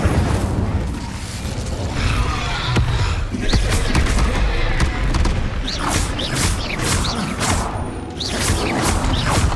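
The Incendio fire spell cast during combat in Hogwarts Legacy, a dense, loud mix of whooshing bursts, thuds and crashing impacts that continues throughout with hardly a pause.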